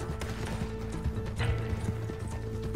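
Horses in Red Dead Online clop along with rhythmic hoofbeats close by, a brief whinny rising over steady low game rumble and background noise.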